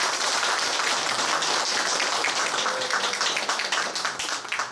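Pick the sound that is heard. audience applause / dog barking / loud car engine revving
audience applause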